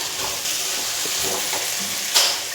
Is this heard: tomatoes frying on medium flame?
yes